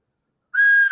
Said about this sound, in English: So Miss Sandy has a train whistle.